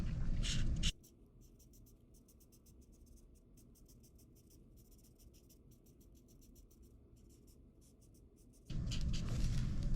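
A black marker colors in a craft pencil pouch, producing repeated rapid scratchy strokes in quick bursts, close and fairly quiet, with louder handling noise at the start and end and no talking.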